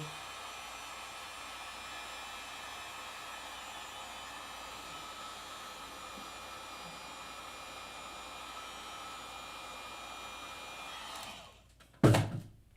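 A hot-air heat tool blows steadily on an iPhone SE 2020 during a screen repair, a loud, even broadband whoosh lasting about eleven seconds before it cuts off, followed by a sharp close thunk near the end.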